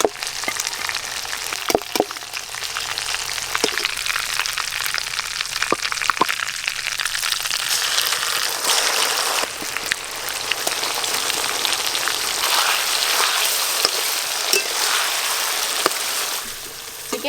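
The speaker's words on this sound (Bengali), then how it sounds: "চিকেন চাপের জন্য কিন্তু মশলা মাখানো চিকেন এরকম ছাঁকা তেলেই ভাজতে হবে" Spice-marinated chicken pieces deep-frying in hot oil for chicken chaap give a steady, dense, rain-like sizzle throughout, with a few sharper pops and clicks scattered over the hiss and no talking.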